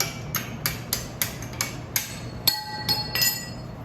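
Hammer tapping out a crushed axle bushing sleeve on a 1978 Power Wagon Dana 60, about ten sharp metallic taps at a steady rhythm, the last few ringing brighter, close and clear with no talk.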